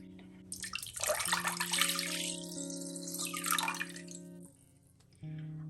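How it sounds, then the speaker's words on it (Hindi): Water pours steadily into a pot as the first step of a sugar syrup for gulab jamun, a continuous splashing stream that rises in pitch as the vessel fills, then stops, leaving a quieter background with no talk. "2 कप पानी ऐड करेंगे।"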